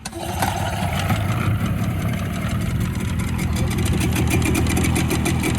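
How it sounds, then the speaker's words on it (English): A Suzuki outboard motor catches on the first pull after priming and choking, then settles into a steady, loud, close idle with a continuous low throb and no talk over it. "Suzuki fire up first pull, hit the priming bulb, a little bit of choke, and put the choke in"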